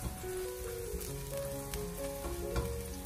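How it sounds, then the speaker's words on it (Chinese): Chopped scallions sizzle gently in a little oil in a wok over low heat, a steady soft crackle with faint stirring and no voices. "往锅中添加少许的油，再把葱花放进来，用小火将它翻炒一下"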